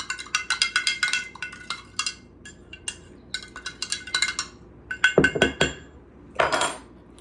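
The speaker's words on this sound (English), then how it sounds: "I'm just going to stir it, not very much, just enough to kind of dissolve the sugar" Metal spoon clinking against a container while stirring sugar into liquid, quick bright taps in uneven bursts with short pauses between them, close and fairly loud.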